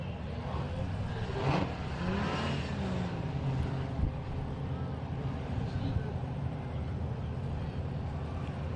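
An off-road truck engine rumbles through a steep rock section during a crawling run, steady and mid-distance, with wind and crowd noise around it and a commentator talking over it.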